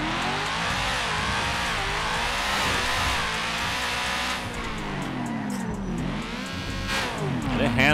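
A car in GTA 5 drives and revs continuously near Los Santos Customs, its engine rising and falling through several gear-like sweeps, with a tire squeal or skid toward the end, loud and steady throughout.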